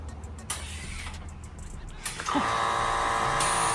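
A powder-coated Club Car golf cart fitted with air bag suspension starts up after a few clunks and thumps, then an electric whine rises and holds steady as it pulls away close by, with no talking over it.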